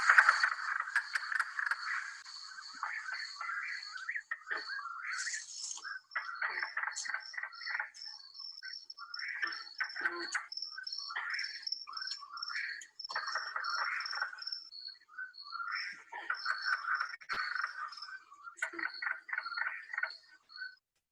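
Mink frogs calling in Maine, a rapid run of hard wooden tapping notes repeated in bursts over about twenty seconds, fairly close and clear with no talking.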